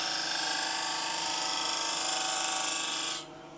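A Jason Breach refinement tool cuts on a spinning wood lathe, giving a steady broadband hiss of shaving wood that holds evenly for about three seconds and then stops abruptly, leaving a faint motor hum.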